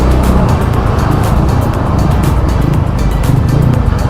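Engine of a KTM Duke 200 BS6 motorcycle while riding, a loud continuous low drone with wind rush, steady and close with no talking.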